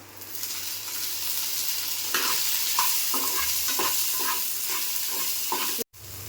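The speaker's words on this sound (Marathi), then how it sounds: "तवा तापला आहे आता आपण भेंडी भाजून घ्यायची जरा" Steady close sizzling of fresh okra frying with a little oil on a hot griddle, with soft scraping and stirring taps through the middle and a brief dropout near the end.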